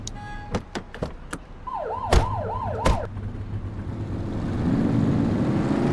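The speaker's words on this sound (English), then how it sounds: "Get on their tail and flip the siren" Police car siren in a police video game: a few sharp clicks, then a rising-falling wail cycles briefly before the siren noise fades into a steady low engine rumble.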